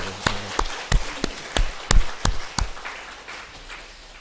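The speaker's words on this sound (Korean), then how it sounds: "우리 모두 부활하신 주님께 영광의 박수." A church congregation at an Easter service claps in unison, a series of sharp, evenly spaced claps at a steady beat that fade toward the end, moderately loud.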